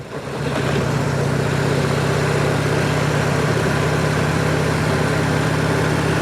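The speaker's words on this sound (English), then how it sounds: "We're going to downshift. Let it slow the bike down." A motorcycle engine brakes steadily while downshifting on approach to a traffic light on a street ride, a loud, continuous low drone with no speech over it.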